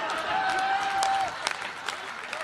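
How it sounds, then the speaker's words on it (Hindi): Applause rises at a Hindi comedy poetry gathering, a moderate patter of claps at first with a tonal whine over it, then sparser scattered claps as the sound thins. "तालियां"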